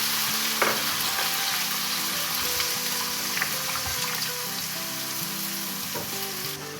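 Chopped tomato and ginger-garlic paste sizzle hard in a pot just after a splash of water goes in, a close, steady frying crackle with occasional stirring scrapes.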